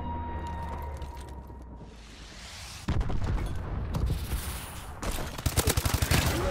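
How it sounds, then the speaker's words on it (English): Call of Duty online match with gunfire and friendly missile strikes: a quieter stretch of background game noise gives way to loud bursts of gunfire, sharp repeated shots and booming impacts near the end. "Friendly missile strikes incoming."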